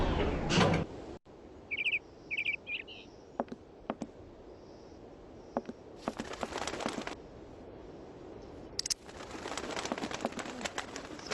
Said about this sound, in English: Scared a bird for no reason.